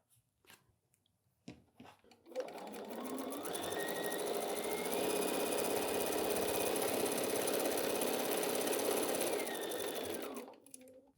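A sewing machine runs in one long steady burst, stitching pinned quilt-as-you-go fabric along a quarter-inch seam, after a few soft handling clicks at the start and with a quiet stop at the end.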